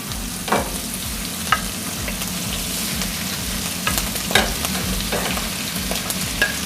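Food fries and sizzles steadily in a hot wok, with occasional clinks and scrapes of stirring, close and continuous, no voices.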